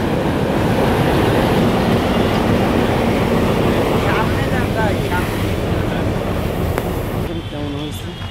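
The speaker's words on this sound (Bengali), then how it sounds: "এটা সেই ইঞ্জিন চলতেছে।" A train engine runs loud and steady at Daulatpur railway station, a constant heavy rumble that eases slightly near the end while voices speak over it.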